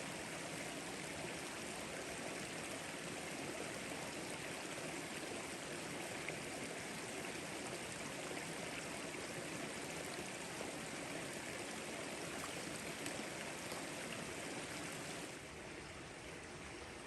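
A narrow creek flowing steadily, with a constant broadband rush and babble of water that stays even and fairly near throughout, with no voices.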